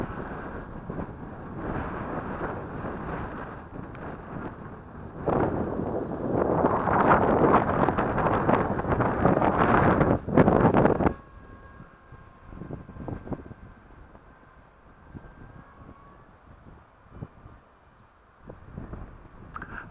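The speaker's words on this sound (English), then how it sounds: "Very windy. I don't know if you can hear that wind on the camera." Strong wind buffets a camera microphone outdoors at a model glider flight, with a loud rumbling roar for about ten seconds, then drops to a lighter gusty rustle.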